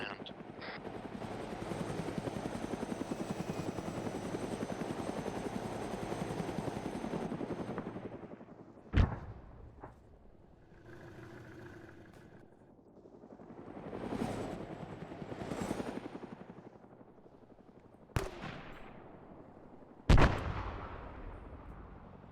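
In the ARMA 3 war game, a military helicopter roars loudly as it passes, its rotor noise swelling and fading, with several sharp gunshot or artillery cracks and a second rising engine pass afterward.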